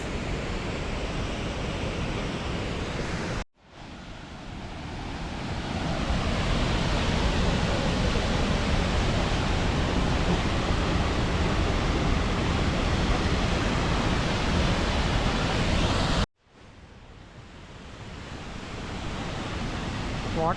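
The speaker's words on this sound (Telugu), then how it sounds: "Jogini water falls." Jogini waterfall in the mountains near Manali, a loud steady rushing roar of falling water close by, broken by two abrupt cuts, with no talk.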